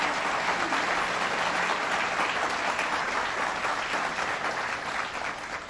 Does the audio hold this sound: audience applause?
yes